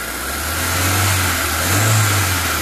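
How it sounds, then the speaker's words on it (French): A car engine run up to higher revs during a fuel injector check, with a loud, steady, close drone that rises and falls gently twice as the throttle is held. "ce que je vais faire, c'est juste amener en révolution le moteur"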